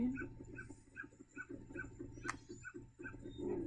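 A dog in Zelda: Majora's Mask gives a steady run of short, evenly spaced yips over background game music, with one sharp louder hit partway through.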